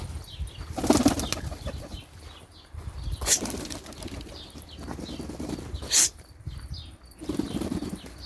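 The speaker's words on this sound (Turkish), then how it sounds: "Bunların içinde de böyle kalkıp uçacak kuşlar" Three bursts of flapping wings as birds take off and fly, with a soft cooing heard faintly between them.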